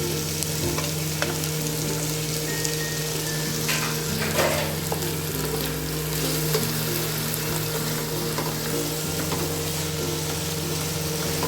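Tomato frying in a pan for prawn biryani, a steady close sizzle with occasional stirring scrapes, continuous with a low background hum and no talking.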